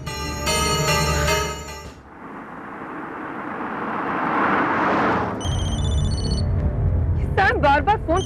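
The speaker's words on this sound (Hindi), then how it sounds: "बार बार फोन क्यों कर रहा है?" A phone ringtone sounds in bursts at the start and again later, loud and close, separated by a swelling dramatic whoosh of background music.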